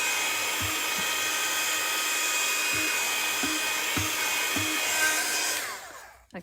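A heat tool blows steadily while melting embossing powder from the back of a card, a continuous close airy whir with a few soft low knocks underneath.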